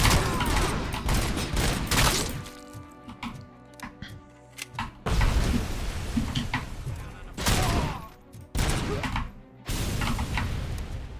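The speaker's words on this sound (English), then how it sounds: "Does the burst fire impact the shots at all?" Burst fire gunshots in the video game RoboCop: Rogue City: several loud clusters of rapid shots separated by quieter stretches with clanks and thuds, and a voice talking in between.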